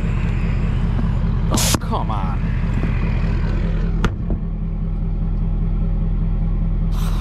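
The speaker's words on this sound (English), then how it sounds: "I can tell that it's low because the truck is working hard" A 2017–2019 Ford Super Duty pickup engine labors hard, a steady low rumbling drone throughout, with a brief spoken exclamation and a couple of sharp clunks over the continuous engine noise.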